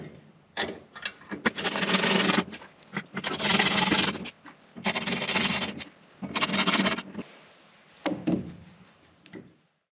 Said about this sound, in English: Now, we'll tighten this manifold back up.